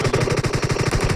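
Rapid automatic gunfire in the PUBG Mobile battle royale game, a loud, steady burst of evenly spaced shots running continuously through the moment.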